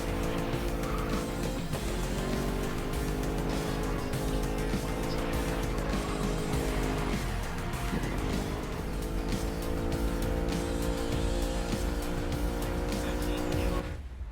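Race cars in the Grid Legends driving game roar steadily and loudly throughout, engines droning with tire squeal and skidding, a dense continuous racing mix that cuts off abruptly at the end.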